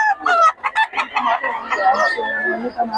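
Several roosters crow and cluck over one another at a chicken market in Bocaue, choppy overlapping calls close by, with a longer sustained crow toward the end and possible voices mixed beneath.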